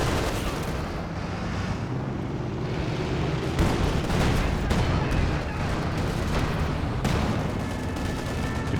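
Stuka dive-bomber attack in Company of Heroes 2, a dense barrage of booming impacts and crackling gunfire rolling continuously over a loud battlefield roar.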